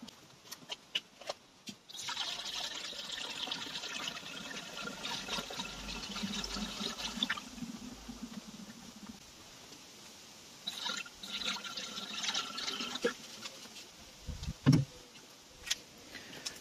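Coolant trickling and gurgling steadily into the cooling circuit of a Peugeot 308 CC 1.6 THP, with small drips and clicks, fairly close and quiet, with a few louder knocks near the end.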